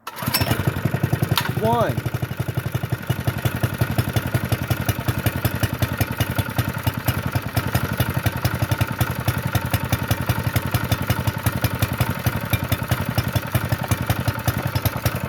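Honda GX120-powered Motovox minibike engine starting with a brief pull-start rattle, then running at a steady chugging idle throughout, fairly close, with a little speech over it.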